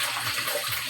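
Running water splashing steadily while dishes are washed, a close, continuous rushing flow filling the whole short moment.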